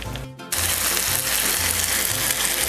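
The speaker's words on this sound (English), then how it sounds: "you can hear them sizzling away" Loud, steady sizzling of veal and chicken saltimbocca browning in a hot skillet, a dense crackling hiss that jumps up sharply after a brief quieter moment.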